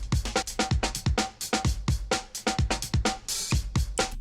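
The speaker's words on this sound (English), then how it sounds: "Loopers especially use a lot of breakbeat loops like this one" Punchy breakbeat drum loop for a STMPD style break, with kicks, snares and hats in a tight syncopated rhythm, close and loud and alone.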